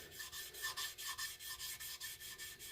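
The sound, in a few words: buffing a knife edge with jeweler's rouge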